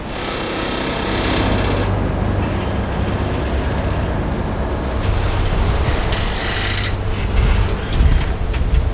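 Ocean waves of the northern Pacific near Bering Island roll in a loud, steady roar of surf and wind, with a rougher mechanical churn building toward the end.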